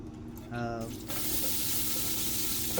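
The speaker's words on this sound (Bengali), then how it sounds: "হাঁড়ির মধ্যে পেঁয়াজ জ্বালছি" Onions go into a hot pot for chicken biryani, a steady loud hiss and sizzle that surges up after a brief moment of a voice speaking.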